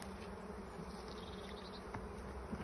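Honey bees buzz steadily around an apiary hive after a shook swarm, a faint, dense, even drone with no pauses and no talk.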